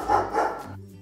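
A dog barks twice in quick succession, fairly close and moderately loud, followed by a low steady hum with no talking.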